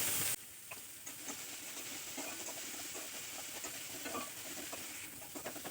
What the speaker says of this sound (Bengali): দিয়ে দিচ্ছি অল্প পেঁয়াজ কুচি। পেঁয়াজ কুচির মধ্যে আমি হাফ চামচ লবণ দিয়ে দিলাম।